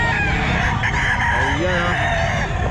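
Rooster crowing at the Bocaue pet market, a loud close drawn-out crow over constant crowd and market chatter, with other fowl clucking in the background.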